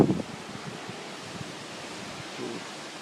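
Storm wind gusts through trees in a broad, soft rushing roar, faint and distant, with a brief louder buffet at the very start.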